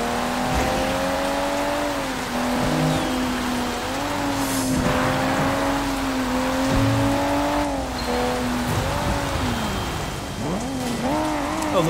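A car engine drones steadily, rising and falling, under a constant hiss of heavy rain while driving in wet weather in Sleeping Dogs, with no talk.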